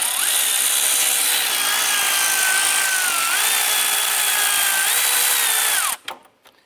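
Power tool whirring steadily while removing 10mm bolts from the windshield washer reservoir of a 2015-2020 Cadillac Escalade, motor pitch rising and falling a few times, loud and continuous before stopping abruptly near the end.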